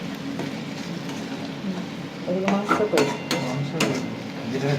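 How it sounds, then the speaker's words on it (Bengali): Chopped onions frying in oil for Rajasthani red chicken curry, stirred in the pan: a steady sizzle with a run of sharp metallic scrapes and clanks from the stirring in the second half, voices faintly in the background. "তেল দিয়েছে, তেলের মধ্যে পেঁয়াজ কুচি দিয়েছে, এবার নাড়ানাড়ি চলছে।"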